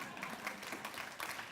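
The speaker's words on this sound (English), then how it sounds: "you can clap for that one" Audience applause at a Green Task Force breakfast event, a dense, continuous wash of many hands clapping at even loudness, heard alone without talk.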